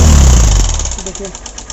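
A Honda CB motorcycle engine running without oil gives a brief, loud, rough rattling idle close up, its revs settling and the clatter fading over under two seconds.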